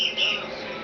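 A young brown-necked parrot chick, an African parrot, gives a brief high chirping call, close and fairly loud.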